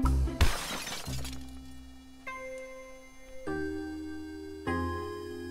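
Sad death jingle in a self-programmed PureBasic Snake video game: a sharp crash-like burst, then a slow sequence of sustained electronic tones stepping downward, alone and moderately loud.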